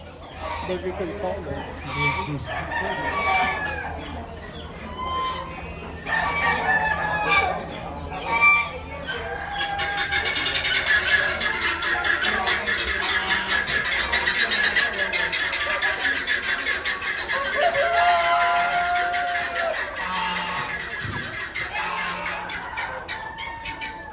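Chickens cluck and squawk and a rooster crows amid the busy, continuous din of a crowded poultry auction, with voices talking in the background throughout.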